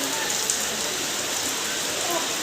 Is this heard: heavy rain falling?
yes